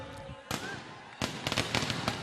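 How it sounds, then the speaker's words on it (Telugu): Firecrackers burst at an outdoor political rally in Mangalagiri: sharp, loud cracks in a quick irregular volley over a steady crowd din. "చిరంజీవి గెలిచినప్పుడు బ్రహ్మాండంగా బాణసంచా పేల్చాలి, కానీ ఇప్పుడే పేల్చేస్తా ఉన్నాడు"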